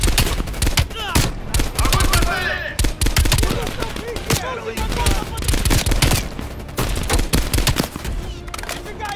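Gunfire in Call of Duty Cold War, rapid bursts of automatic shots crackling loud and close, broken by short pauses, with a player talking over it.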